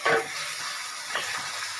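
Marinated chicken for chicken korma hits a hot pan, giving a steady close sizzle and frying hiss with a brief louder burst at the start and faint stirring scrapes.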